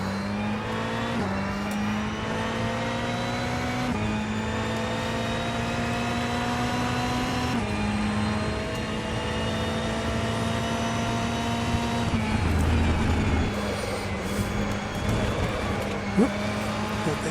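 A Ferrari 488 GTE race car in the rFactor 2 simulator howls through gear changes, its engine note climbing and dropping in repeated sweeps, then easing off under braking, loud and close, with someone talking over it.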